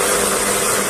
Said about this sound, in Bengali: আচ্ছা, ইঞ্জিন স্টার্ট করা হবে।